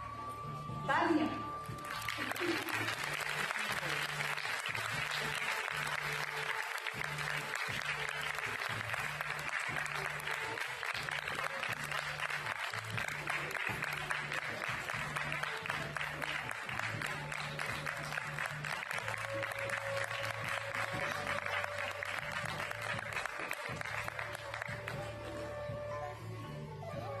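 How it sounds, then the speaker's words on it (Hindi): Sustained, dense audience applause fills a hall at the Swaranjali 2023 music concert in Chandigarh. It stays steady and loud for nearly half a minute over a low hum, with voices faintly mixed in. "आपकी निरंतर करतल ध्वनि तालियां"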